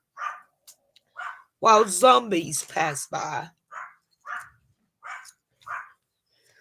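A pet dog barks in short separate yaps spread evenly across the stretch while someone talks in the middle, each bark sharp and moderately close inside a home.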